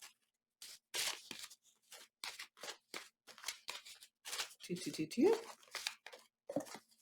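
Paper envelopes are torn and opened one after another, short crisp ripping and crinkling bursts separated by pauses, with someone talking over parts of it.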